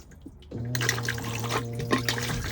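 A cassette toilet in a motorhome flushes after its blue button is pressed: a quiet start, then water rushes and trickles steadily through the bowl, close and fairly loud, with a low pump hum underneath.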